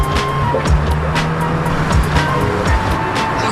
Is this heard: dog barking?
no